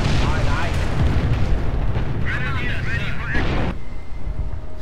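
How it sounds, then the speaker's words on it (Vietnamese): Artillery shells exploding in Company of Heroes, heavy rumbling booms rolling continuously through a dense battle mix, with speech running over the top. "nó cứ dội pháo, thỏa pháo xuống"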